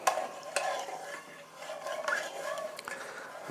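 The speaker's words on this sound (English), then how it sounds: "Let's just give that a wee final mix." Sugary liquid being stirred in a home brewing fermenter, a continuous close swishing and sloshing with occasional light knocks against the vessel, moderately quiet and steady throughout.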